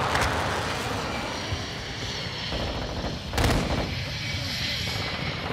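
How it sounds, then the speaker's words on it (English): Cluster mines explode in Call of Duty: Modern Warfare 2 as a dense, rumbling barrage with a sharp, loud blast near the middle, set against aircraft and battle noise. "Friendly cluster mine deployed."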